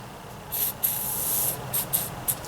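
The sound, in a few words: spray can spraying onto nut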